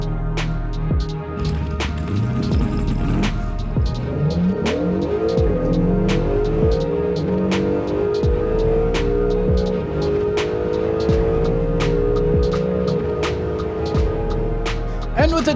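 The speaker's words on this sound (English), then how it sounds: "What a run by the Gazella GT." A Hot Wheels Gazella GT diecast car speeds down a track in a diecast racing league timed event, a rising rolling whir with sharp rhythmic clicks at track joints, under an excited commentator's voice.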